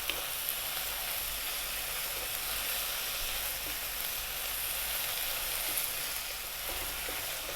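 Dried oregano and thyme frying in a pan over above-medium heat for Turkish pide filling, a steady, even sizzle throughout with no talk.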